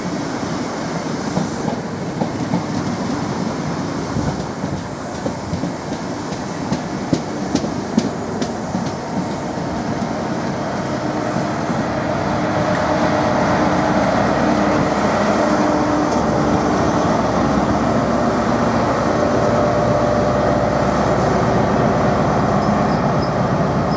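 A Great Western Railway Class 43 HST passenger train rumbles past steadily, wheels clicking over rail joints early on, then a sustained loud roar of motion without voices.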